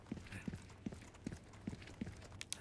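Horse hooves clip-clopping in the Resident Evil 4 Remake video game, a faint, evenly spaced series of about six hoof beats at a steady walking pace.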